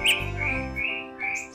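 A green leafbird (cucak ijo) sings a loud, close run of bright chirps and whistled notes, layered over a low background hum, with no voices.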